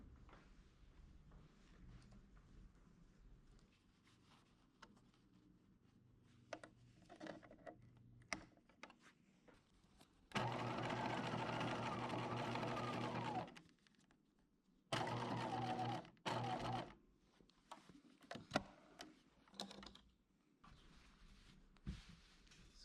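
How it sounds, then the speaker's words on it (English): A sewing machine runs a basting stitch through layers of fabric for a mariner top bow, in two loud sustained bursts separated by quiet handling and small clicks, with no talk. "we're going to run a basting stitch through all these layers to hold it in place"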